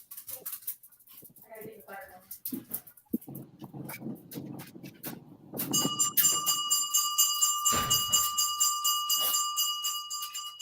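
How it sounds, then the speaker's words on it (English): A bell rung outdoors to call dogs inside chimes repeatedly and rings out in the latter half, after dogs bark and whimper and a person talks. "That's her bell for the dogs."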